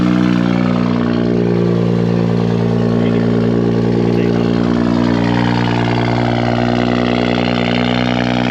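A car engine runs loud and close, holding a steady, even drone throughout with no pauses.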